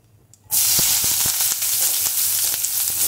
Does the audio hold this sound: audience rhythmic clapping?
no